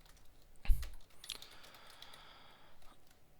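Keys clatter on a computer keyboard in a quiet room, starting with a sharp thump and a quick burst of clicks, then softer, scattered taps.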